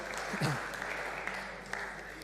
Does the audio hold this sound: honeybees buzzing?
no